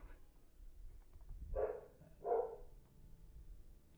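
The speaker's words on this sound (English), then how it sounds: "my mom's dog is barking." A dog barks twice in another room, muffled and fairly faint over a low background hum.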